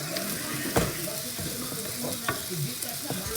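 Meat sizzles steadily in olive oil in a pan, a continuous crackling hiss broken by occasional scraping stir sounds, with no talking.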